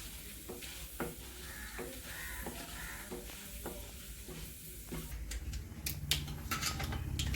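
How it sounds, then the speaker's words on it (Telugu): Urad dal and chana dal sizzle in hot oil for a tempering, with a steady frying hiss and the periodic scrape of a spoon stirring the pan. Metallic clinks grow busier near the end. "ఈ తాలింపు బాగా వేగాలి."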